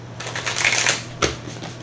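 Tarot deck being shuffled by hand in a single close riffle-like run of papery card flicks, ending in one sharp snap, with no talking.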